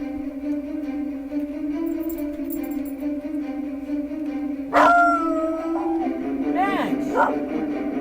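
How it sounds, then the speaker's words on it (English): Max the dog howls at the moon outdoors, a long wavering howl rising and falling near the end over a steady low hum, with a sharp burst of noise before it. "Max, stop howling."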